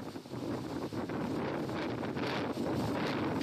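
Strong typhoon gusts lash Lanyu island, a dense roaring rush of wind that buffets the microphone in surges and never lets up.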